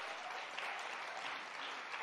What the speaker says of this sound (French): Applaudissez très, très fort, particulièrement les femmes.